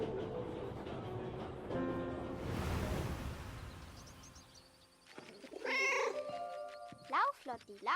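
A cat meows several times in the video game 11-11: Memories Retold, short rising cries heard clearly near the end, after a stretch of music and a dull rumble, with speech present.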